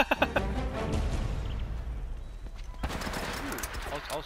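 Rapid bursts from a mounted gun in Uncharted: Drake's Fortune, a dense rattling volley of close shots over game effects, with voices talking over the gunfire.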